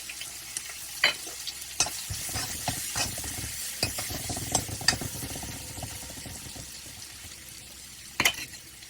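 Chili and ginger sizzle in hot oil with asafoetida, a constant crackling hiss broken by sharp clicks and scrapes of stirring up close.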